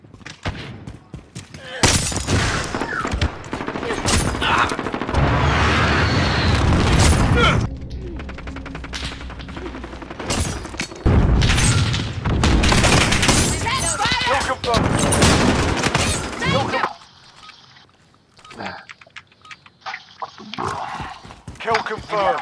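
SCAR rifle fire in a video game crackles in repeated bursts and rapid volleys, loud and close, with a voice talking over much of the shooting and a quieter stretch near the end.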